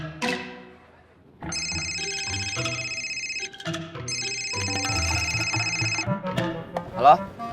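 Ringing telephone in an Indonesian drama series scene: two long bursts of a bright electronic ringtone separated by a short pause, fairly loud and close, ending in brief rustling and clicks.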